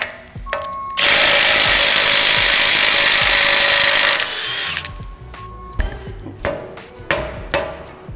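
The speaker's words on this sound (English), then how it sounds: "so I'm going to use an impact." A pneumatic-style impact wrench works the lug nuts on an off-road vehicle's wheel, one loud continuous burst of about three seconds followed by shorter clanks and tool handling nearby.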